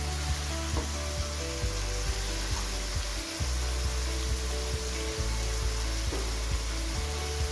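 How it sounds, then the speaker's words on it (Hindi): Onion, one large, frying in hot oil in a pan while being stirred, giving a steady dense sizzle with periodic scraping stir strokes throughout. "अब इसमें हमने 1 प्याज बड़े साइज का डालना है। अब इसको अच्छी तरह हिला दें।"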